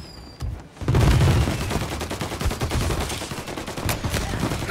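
Gunfire erupts in Mafia Definitive Edition, a sudden loud burst of rapid, repeated shots that carries on as dense automatic fire, close and intense, with faint talk beneath.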